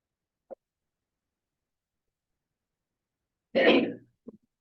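A single short sneeze bursts out in an otherwise quiet room, with a couple of faint small clicks before and after it.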